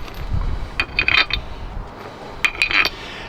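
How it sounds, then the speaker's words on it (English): Metal bolts dropped into a steel leveling-kit bracket for a 2019-2025 Chevy Silverado or GMC truck, two clusters of sharp clinking rattles a second or so apart, close and clear over a low background hum. "So you take this off, drop your bolts in."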